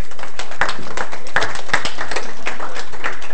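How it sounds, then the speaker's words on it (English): A lecture audience claps for a quiz winner, with scattered, uneven hand claps over a few seconds that sound somewhat distant and thin. "Probably deserves a round of applause."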